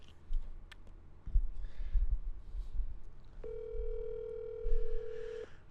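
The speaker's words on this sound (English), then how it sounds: "let me get a Hannah on the phone." A telephone dial tone sounds while a call is being placed, a steady hum for about two seconds following a few clicks and handling noises, with faint background chatter.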